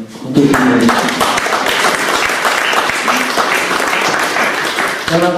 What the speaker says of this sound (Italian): fate un bel applauso